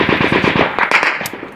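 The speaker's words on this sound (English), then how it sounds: "A firefight breaks out between insurgents and another Marine unit a few hundred meters up the road." Rapid machine-gun fire from a firefight between insurgents and a Marine unit in Afghanistan, a few hundred meters away, with fast repeated bursts and a couple of louder sharp shots near the end.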